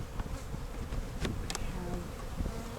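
Honey bees buzz in a dense, continuous drone over an open brood chamber in a bee yard, close and steady, with a few faint ticks and bumps.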